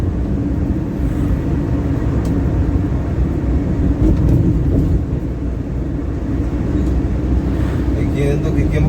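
A manual car's engine hums steadily around 2,500 rpm while shifting out of fourth gear on an uphill road, with a low continuous drone and road noise under someone talking throughout.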